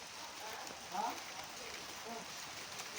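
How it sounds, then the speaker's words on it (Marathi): Rain falls steadily on New Year's Day in a steady, broad hiss that continues throughout, with a faint voice briefly over it. "आवाज तर तुम्ही ऐकूच शकता पावसाचा."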